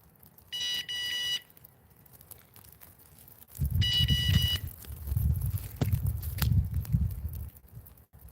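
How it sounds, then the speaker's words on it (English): A fishing bite alarm sounds two separate electronic beeping tones, each under a second long, clear and close, with quiet outdoor background noise between them. "But that's why I got a fishing alarm."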